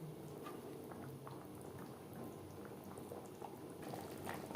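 Tangra fish curry with gravy simmers in a pot, a soft, steady bubbling and popping at low level, close by and uninterrupted, with no voices.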